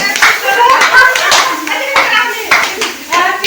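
A group of people at a family birthday party clap their hands in a lively, fairly close burst of rapid, uneven claps, with voices chattering alongside.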